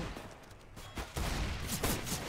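Scout sniper rifle gunfire in a competitive Counter-Strike match cracks out as several loud shots in quick bursts amid dense in-game battle noise.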